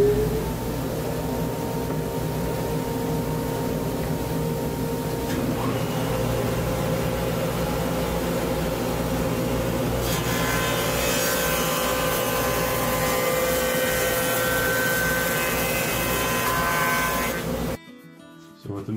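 A Delta 43-375 wood shaper runs with a steady motor hum, and its tone brightens halfway through into a harsher whir as the cutter works the wood. The sound is continuous, near and fairly loud, then drops sharply at the end.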